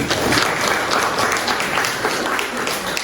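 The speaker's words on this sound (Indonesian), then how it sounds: "Oke, kita kasih tepuk tangan." Sustained audience applause in a classroom teaching session, a dense steady wash of many hands clapping at even loudness throughout with no talk on top.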